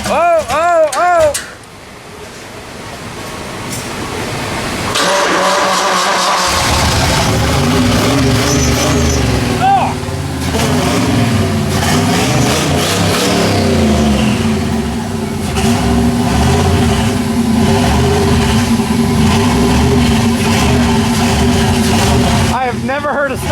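A turbo LS burnout truck's starter grinds loudly, then the engine fires and settles into a rough, loud idle with some revving, close by, with people talking.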